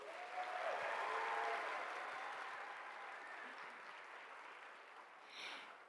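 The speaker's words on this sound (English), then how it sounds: "let's give them another round of applause" Audience applause at a university Asian spring gala, a sustained round of clapping that swells early then gradually tapers off, heard from some distance in a large hall.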